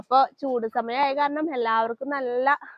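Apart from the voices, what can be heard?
No everyday noise stands out behind the speech.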